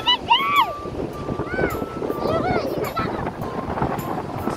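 Sea waves wash steadily onto a beach, a continuous close surf roar under wind, with people talking and calling out nearby.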